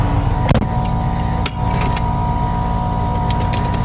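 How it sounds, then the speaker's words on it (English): A car air conditioning compressor runs on a Z28 Camaro six-speed on air bags, a loud, steady mechanical drone with a couple of brief clicks over it, no talking. "Boy, that compressor is noisy."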